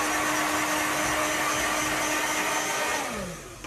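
A hair dryer blows steady heat onto a brush during a men's short layered haircut, a loud constant whoosh with a whining tone that fades near the end.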